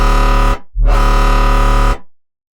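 A buzzing, harmonically rich Serum synthesizer tone with a filtered, distorted texture, played twice with a short gap, the second note sustaining before fading out.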